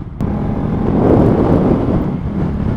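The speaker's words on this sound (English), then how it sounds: "when I pass this barn, it's going to cut some of the wind and then I'm going to get hit by it" Strong gusty wind buffeting a rider on a small Honda Grom motorcycle in rural Lancaster County, Pennsylvania, a loud continuous low roar of wind against the microphone that swells midway and stays heavy, with no talking.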